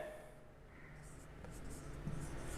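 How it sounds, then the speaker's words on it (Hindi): Chalk or marker writing on a board in a classroom, faint scratchy strokes over a low steady room hum, with brief squeaks toward the end. "फॉर एग्जाम्पल हम यहां लिखते हैं"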